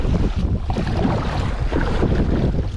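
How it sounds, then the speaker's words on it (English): Strong gusting wind buffets the microphone over a choppy, swelling sea during a kayak outing, a loud continuous roar with churning water and no break. "that is a pretty strong wind"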